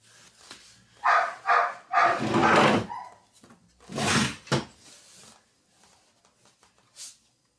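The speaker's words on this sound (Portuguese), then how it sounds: "O cachorro do vizinho latindo aqui é o dia todo desse jeito." A neighbor's dog, kept tied up, barks in a short irregular burst of several loud close yaps, then a few fainter ones, with no talk.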